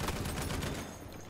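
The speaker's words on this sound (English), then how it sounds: "I'm using whatever this machine gun's called" A machine gun fires in Battlefield 1, used on the support class: a dense, loud burst of rapid shots for just under a second, then a fading, noisy tail.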